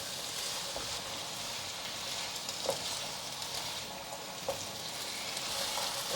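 Pumpkin and mushroom stir-fry in a pan with soy sauce, vegan oyster sauce, white pepper and salt, giving a steady loud sizzle with a few faint spatula scrapes and taps, no voices.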